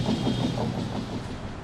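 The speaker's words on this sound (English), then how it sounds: "By that time, a train had passed over the bridge." A train rolls past at steady volume with a continuous low rumble and faint rhythmic clatter from the wheels, as if crossing a bridge, with no voices.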